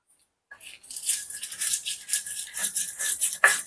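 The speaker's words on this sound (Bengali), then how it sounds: "1 চামচ কালো সর্ষে আর একটা কাঁচা লঙ্কা আর অল্প নুন দিয়ে শিলে আমি বেটে নিচ্ছি" Black mustard seeds, green chilli and salt are ground on a stone slab, making close, gritty scraping strokes in a steady back-and-forth rhythm after a brief silence, with no talk.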